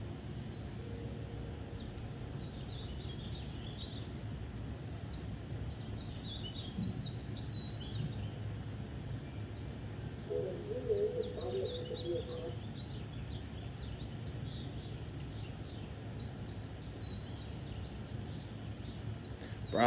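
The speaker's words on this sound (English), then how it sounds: "Just listen to the birds, man." Birds chirp and sing intermittently at a distance over a quiet outdoor background, with brief calls scattered throughout.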